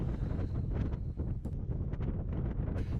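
Steady wind gusting and buffeting around a vinyl fence outdoors, a continuous low roar with rustling bursts and no voices.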